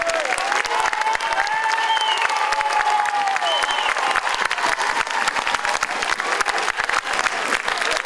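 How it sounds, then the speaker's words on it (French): Sustained applause from an audience at a school musical, a steady dense patter of many hands clapping at once, fairly loud and continuous throughout. "Remerciez-les par vos applaudissements."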